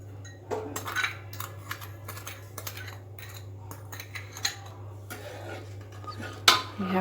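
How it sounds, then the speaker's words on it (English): A spoon clinking and scraping inside a cooker while milk and sugar are mixed for rice kheer, irregular metallic taps and stirring over a steady low hum, with a louder clank near the end. "We have to mix everything."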